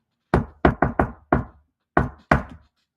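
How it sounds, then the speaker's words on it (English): Seven sharp knocks on a door, an uneven pattern of a single rap, a quick triple, another single, then two more after a pause, close and crisp with silence between them. "So he knocks on the door one more time."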